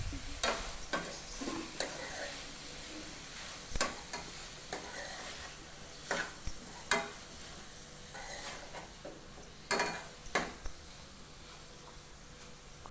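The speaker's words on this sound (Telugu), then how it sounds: "కొంచెం ఒక 5 నిమిషాలు నూనెలో మగ్గనివ్వాలి." Tomato and onion sauté in oil while a spoon stirs them, giving a low, soft sizzle broken by irregular scrapes and knocks of the utensil against the pan.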